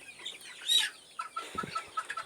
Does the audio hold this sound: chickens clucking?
yes